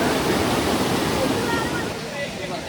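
Monsoon floodwater rushes through a stream among rocks in Pattambi, a dense, constant roar of churning water that stays loud and close throughout.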